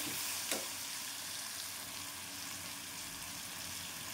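Turmeric and red chili powder frying in a pan for a mixed vegetable curry, a constant close hiss of sizzling oil with one brief stirring scrape near the start, no talking.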